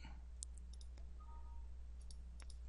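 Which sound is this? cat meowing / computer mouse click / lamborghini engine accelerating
computer mouse click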